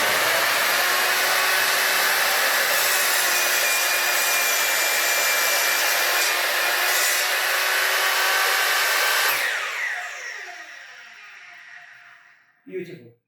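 A Bosch GTM 12 JL combination mitre and table saw makes a 47-degree bevel cut, its motor roaring loud and close for about nine seconds before spinning down and fading, followed by a brief knock.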